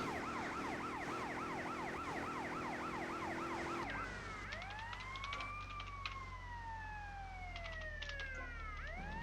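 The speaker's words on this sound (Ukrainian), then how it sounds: "Давайте ось так. Із сиреною." Police siren in GTA Vice City 10 Year Anniversary Return Edition, first a rapid wailing yelp over engine drone, then switching to slow rising and falling wails, loud and close throughout.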